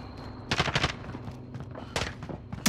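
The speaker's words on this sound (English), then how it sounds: "There's a lot of gunfire over there." Gunfire in Call of Duty: Modern Warfare comes in several short bursts of rapid shots, mid-distance and fairly loud, separated by brief pauses with a faint background hum.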